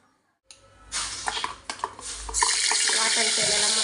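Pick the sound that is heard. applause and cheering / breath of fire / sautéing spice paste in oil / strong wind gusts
sautéing spice paste in oil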